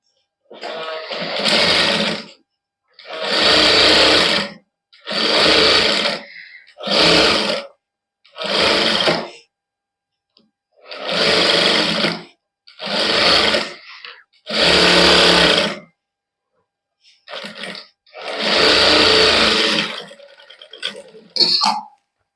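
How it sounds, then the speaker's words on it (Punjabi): Sewing machine stitching the side seams of a Punjabi boutique suit, running in about ten separate loud bursts of a few seconds each with short pauses between, close and alone. "ਹੁਣ ਇਹਦੇ ਸਾਈਡਾਂ ਤੇ ਲਾ ਲੈਨੇ ਸਲਾਈ"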